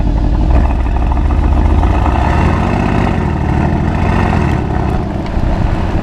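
Mercedes-AMG GLC 63S engine driving, a loud, steady low rumble with a multi-clutch transmission pulling in first gear, dipping slightly toward the end, with no talk over it.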